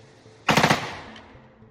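A Jakl rifle fires a rapid, very loud string of about five shots outdoors toward a hill, the burst ending abruptly and ringing out into a fading echo.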